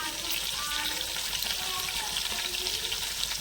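Curry leaves fry in hot oil, giving a continuous close crackling sizzle that stays steady throughout.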